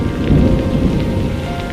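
Heavy rain pours down in a thunderstorm in an animated children's story, a loud continuous roar of rainfall with deep rumbling thunder underneath and no voices.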